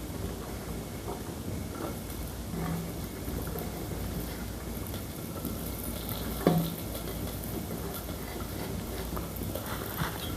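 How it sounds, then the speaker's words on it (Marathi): Onion frying in oil in a clay pot gives a soft, steady sizzle, with a few faint knocks of a wooden spatula stirring now and then. "तेल टाकून घेऊ आता आणि कांदा व्यवस्थित लाल करून घेऊ त्याच्यात"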